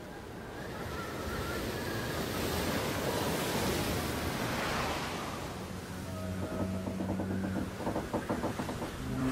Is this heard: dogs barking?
no